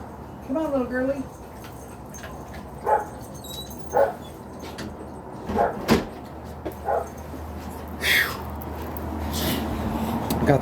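Small dogs let out through an opened garage door near a busy street: a high whimpering whine up close, then a string of sharp, separate yips and barks over a steady low traffic rumble.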